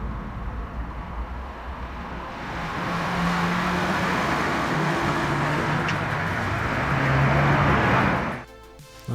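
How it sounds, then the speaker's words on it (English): AI-generated street ambience of modern cars passing, a steady broad roar of traffic with engines swelling and fading nearby, continuous throughout before cutting off abruptly near the end. "it sounds like a modern day street with cars"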